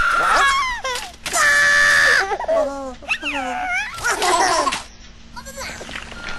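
A baby in the video game Rabbids Go Home cries and screams in loud, wavering wails with babbling squeals, close and continuous over a game soundtrack.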